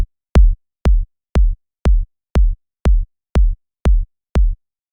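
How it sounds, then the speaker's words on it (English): Ten short, thumpy house kick drum hits with a deep sub tail, in the melodic Anjuna style, sound at an even tempo with a sharp click on each attack and silence between the hits. "This is the kick."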